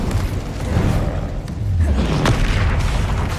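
A fire spell burst in the video game Witch Simulator 2023, a loud whooshing boom with a rumbling low roar that swells across the clip, with no talking.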